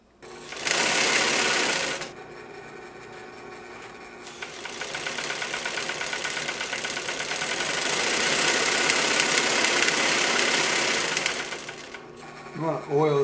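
A Singer 111W153 triple-feed industrial sewing machine runs while winding a bobbin, a loud, close mechanical whir with rapid rhythmic clatter that stops briefly and starts again, a voice talking over it.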